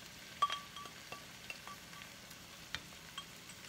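Eggplant pulp cooking in a pan for a filled-eggplant dish, giving a quiet, steady sizzle with scattered soft clinks and scrapes from stirring, no voices.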